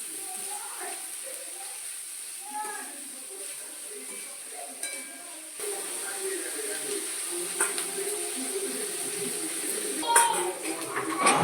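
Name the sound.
stir-frying chopped vegetables in a pan for chowmein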